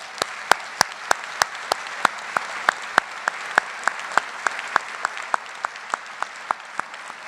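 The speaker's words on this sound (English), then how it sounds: "Please let's give them, graduates, some applause." A crowd at a university graduate commencement in a concert hall claps steadily and fairly loudly, dense applause with sharp individual claps standing out in a regular pattern, no voices.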